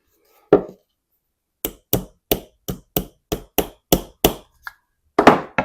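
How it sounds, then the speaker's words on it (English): Quarter-inch wooden dowels are tapped into three drilled holes while building drawers with a doweling jig: a series of about nine sharp, evenly spaced knocks, close and distinct, with a single knock first and a scrape at the end. "take your 1/4 inch dowels and you're just going to insert them into the 3 holes you drilled."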